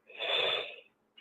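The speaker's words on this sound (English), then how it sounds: "Excuse about the cough." A single short, breathy cough from a man with a chesty cold, close and fairly quiet, ending abruptly.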